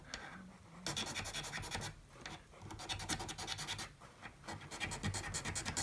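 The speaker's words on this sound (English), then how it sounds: "Polishing the frets, all that wonderful stuff." Guitar frets on a Takamine EG341-SC are polished, making close, steady scratchy rubbing strokes in short bursts, fairly quiet and with no talking.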